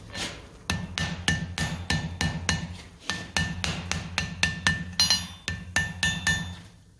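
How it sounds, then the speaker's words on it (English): A close, steady run of ringing blows from a lighter blacksmith's hammer on hot steel, roughly two or three gentle strikes a second with a brief pause partway through, no talking. "So I'm using a lighter hammer with more gentle blows."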